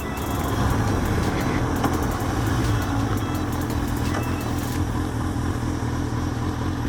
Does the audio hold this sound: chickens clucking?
no